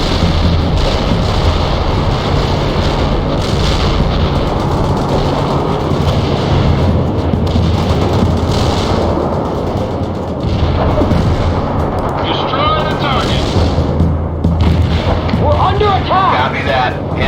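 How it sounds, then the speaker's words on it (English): A heavy artillery barrage in the World in Conflict war game, a loud continuous rumble of overlapping explosions that rolls through the whole stretch, with game radio voices speaking over it. "Heavy artillery barrage inbound"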